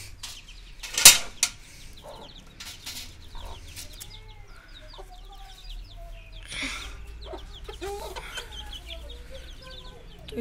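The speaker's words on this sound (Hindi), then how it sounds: "ये रहा हमारा मुर्गा।" A rooster clucks intermittently in short bursts amid quiet farmyard ambience, with a sharp knock near the start.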